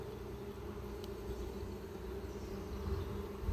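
Steady low buzzing drone of honeybees around a hive at an apiary in spring, continuous and fairly faint, with no talking.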